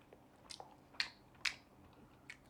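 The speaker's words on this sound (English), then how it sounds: "I hope you guys can hear the crunch." A crunchy pav paneer slider bitten and chewed, giving a few sharp, close crunches spaced about half a second apart, with soft chewing between them and no talking.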